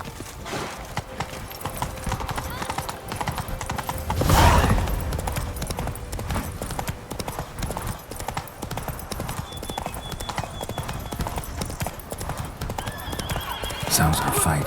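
A horse gallops in The Witcher 3, its rapid clip-clop hoofbeats drumming steadily throughout, with a loud whinny near the start and game ambience and effects mixed underneath.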